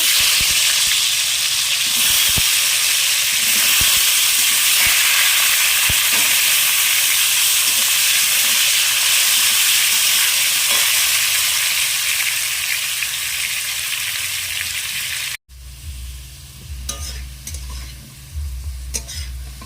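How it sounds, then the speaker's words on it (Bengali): Salt-and-turmeric-coated potatoes sizzle loudly and continuously in hot oil in a kadai with occasional stirring scrapes, then the sound drops off sharply and a quieter clatter follows. "এই আলুগুলো আমি ভেজে নেব।"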